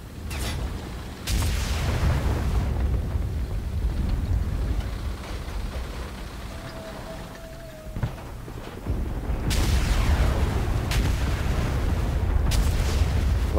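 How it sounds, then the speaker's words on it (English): Rocket artillery salvos in the Enlisted video game streak overhead with loud booming launches and a long rumbling roar, one sharp burst early and further bursts near the end. "Love seeing those rockets shoot overhead."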